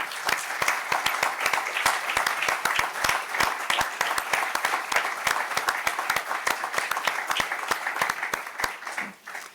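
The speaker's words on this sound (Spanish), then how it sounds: "la manera de agradecértelo por nuestra parte pues es darte un fuerte aplauso" Steady applause from a lecture audience thanking a researcher after his talk on Euro-Latin American relations, dense clapping sustained at even loudness for nearly ten seconds before tapering off at the end.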